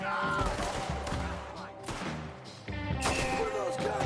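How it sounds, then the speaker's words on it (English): Gunfire in the Red Dead Redemption II video game: a loud, dense volley of shots and crashing impacts that runs through the whole span, fairly close, with voices faintly underneath. "What are those guns they have?"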